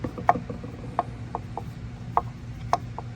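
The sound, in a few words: screwdriver tightening drain plug on Tohatsu outboard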